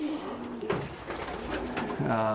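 Racing pigeons cooing inside a loft, several soft low rolling coos overlapping close by, with a voice talking faintly beneath.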